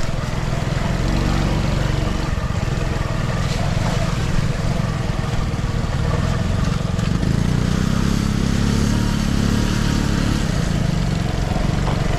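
A motorcycle engine runs continuously on a ride out to a rural sitio, a loud, close, rough drone with wind rumble mixed in and no break for the whole stretch.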